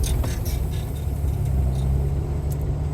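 Low, steady rumble of a manual-transmission truck engine as the vehicle creeps forward a few feet in low gear during a pre-trip check, heard close from inside the cab with faint clicks and rattles.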